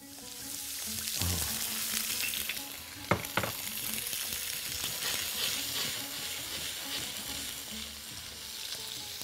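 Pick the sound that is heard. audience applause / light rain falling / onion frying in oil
onion frying in oil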